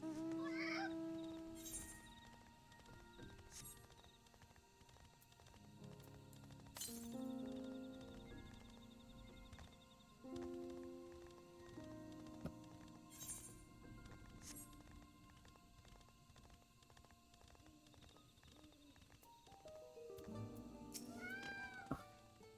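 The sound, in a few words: cat mount meowing in video game FFXIV Dawntrail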